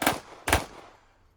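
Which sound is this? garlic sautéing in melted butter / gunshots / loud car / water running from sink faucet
gunshots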